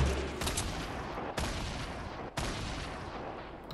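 Dense, rapid gunfire in the video game Fortnite Battle Royale, a continuous loud rattling fusillade with a few sharper breaks, close and filling the whole stretch without talk.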